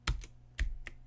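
Keystrokes on a computer keyboard as a file-deletion command is typed: four quick, crisp clicks in two pairs, close and clear with no talk.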